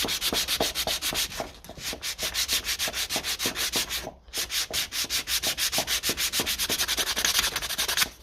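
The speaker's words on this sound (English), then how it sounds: "This is a bit harsh for sandpaper, but we can polish it up then with the Dremel." Sandpaper rubbing on a metal part from the diesel injection pump of a 1957 Ferguson 20 TEF tractor, quick regular back-and-forth strokes, close and loud, with one brief pause midway and no speech.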